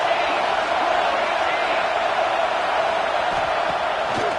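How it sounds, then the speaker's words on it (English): A football stadium crowd roars steadily behind the defense in the red zone, a dense and continuous wash of cheering that holds at the same loud level throughout. "The crowd getting behind this defense as they try to get a stop in the red zone"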